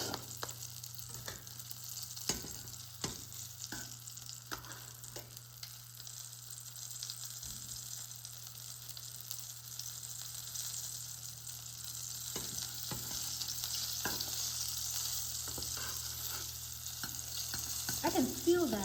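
A Chinese meat pie fries in a pan, giving a steady, close sizzle and crackle of hot oil that swells slightly louder toward the end, with occasional soft clicks and scrapes.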